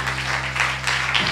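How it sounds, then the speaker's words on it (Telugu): Church congregation clapping hands together in worship, a steady dense patter of many hands filling the room, fairly loud and continuous with a low hum beneath. "చప్పట్లు కొడుతూ యేసయ్యను మహిమపరచుదా."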